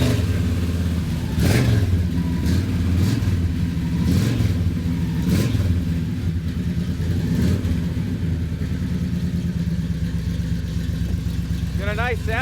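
A Chevrolet Chevelle 300 Deluxe V8 engine is revved in several sharp bursts that rise and fall, then settles into a steady, rumbling idle, close by, with people talking over it near the end.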